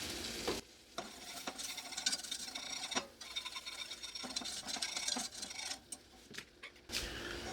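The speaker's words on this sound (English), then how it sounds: "Just getting the butter melted in here. Using a whisk." A whisk working melted butter and flour in a pan on the stove to start a roux, a continuous scraping, rasping stir with soft sizzle, close and steady with a few brief pauses, no voices.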